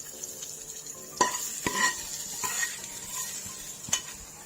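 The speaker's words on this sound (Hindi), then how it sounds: "अब उसको अच्छे से गर्म करके हलीम में शामिल कर देंगे।" Hot onion and Kashmiri chili tempering goes into chicken haleem, giving a soft sizzle with a few sharp spoon and pot clinks as it is stirred in, close by and fairly quiet.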